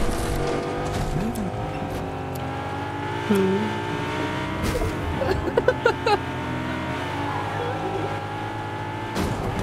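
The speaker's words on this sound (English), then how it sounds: "You're wrecking my car, bro." Car driving and crashing in the video game Fortnite: a continuous engine drone with shifting revs and tire-squeal tones, sharp impact bursts in the middle, and no clear talk over it.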